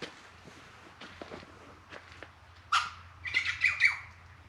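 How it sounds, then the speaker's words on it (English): Birds chirp and squawk in short bursts outdoors in a cactus garden, faint at first and then a louder cluster of calls near the end, with soft footsteps and quiet background. "You can hear the birds out here as well."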